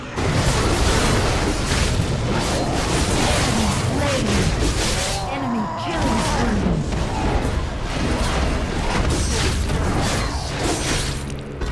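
A turret is destroyed in the Wild Rift video game during a Sion vs. Rengar One For All match: loud, continuous booming, crashing and shattering with whooshes, layered under a constant game mix and voices.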